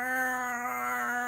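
A voice imitates a loud, scared cat yowl, one sustained, strained wail with a steady tone held for over a second.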